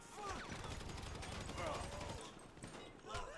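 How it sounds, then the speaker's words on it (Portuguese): Gunfire rings out in GTA 5 during a prison escape, with rapid repeated shots under a busy game mix of sirens and effects. A voice talks faintly at points. "Ai, tô atirando."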